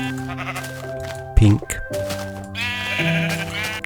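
Minecraft sheep bleating, several short wavering bleats close by, with someone talking over them about sheep colors.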